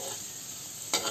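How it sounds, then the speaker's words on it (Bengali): Potato pieces coated with salt and turmeric fry in hot oil, a continuous close sizzle with faint stirring scrapes and a brief louder burst near the end, with no voices. "সামান্য লবণ ও হলুদ মেখে আলুগুলোকে আমি একটু লাল লাল করে ভেজে নেব"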